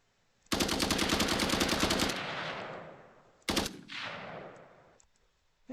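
Automatic gunfire in an Unreal Engine 5 third-person shooter, a loud rapid burst of close shots lasting about a second and a half, then a reverberant tail, a second short burst, and another fading echo.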